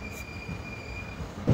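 West Coast Express train wheels run on the rails with a steady rolling rumble and a thin high squeal held throughout, rising to a louder clatter at the end.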